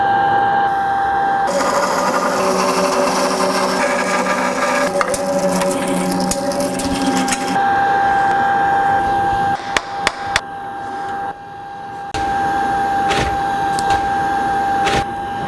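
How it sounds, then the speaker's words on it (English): A bandsaw slices a block of olive wood into two flat pieces in a sword-making shop, a steady close whine and rasp of the blade in the wood followed by brief clunks and knocks as the cut finishes. "So I need to slice this on the bandsaw."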